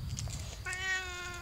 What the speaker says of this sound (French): Le chat le plus gentil au monde.